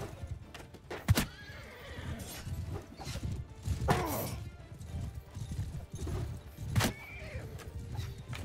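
Horses whinny a few times amid clip-clopping hooves and clanking mechanical sounds in a Mount & Blade II: Bannerlord battle, with sharp impacts and faint voices mixed in.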